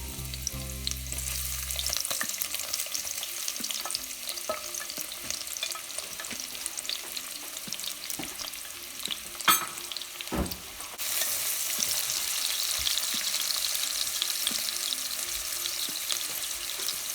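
Garlic and onions sautéing in a pan give a continuous frying hiss with scattered stirring clicks and scrapes, and a sudden brighter, louder sizzle partway through.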